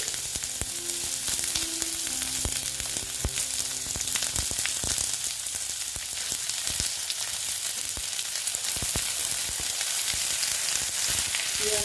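Onion goes into tempered oil for a roadside-style ghugni and fries with a continuous close sizzle, punctuated by scattered clicks and scrapes of stirring.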